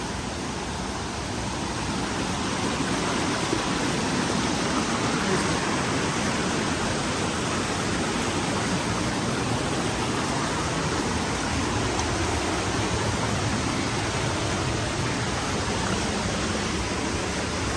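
Steady broadband roar of a waterfall at an abandoned forest site in Thailand, loud and continuous throughout with no talk, close and unbroken.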